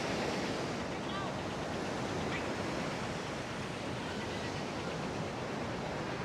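Surf rolls in steadily on a sunny beach in Da Nang, a continuous broad wash of breaking waves with wind rumble, loud and unbroken throughout.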